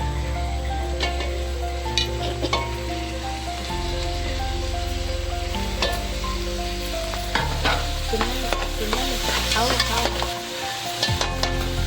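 Tomatoes and chili sizzling in a pan for pav bhaji, a loud continuous frying hiss with stirring scrapes and clatter, growing busier toward the end, no voices.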